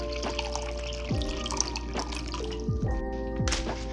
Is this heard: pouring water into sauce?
yes